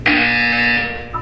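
A single sustained electronic buzzer tone from the video game Portal 2, loud and steady for about a second before cutting off.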